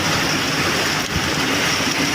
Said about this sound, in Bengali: মা তার আসল রূপ দেখালো, বৃষ্টি হচ্ছে